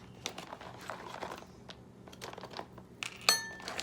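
Quiet crinkling and rustling of a plastic pouch with soft scraping and a small clink, irregular and close, as biscuits and gravy are stirred inside.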